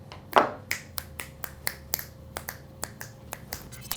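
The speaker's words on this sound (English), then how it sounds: "You want to do the snaps or you want me to do it?" Finger snaps for a sound check, about a dozen crisp, evenly spaced snaps close to the microphone, quiet overall with no talking.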